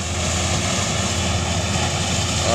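A sugarcane harvester's heavy engine drones steadily and loudly while it works in a cane field, a constant mechanical roar with no pauses.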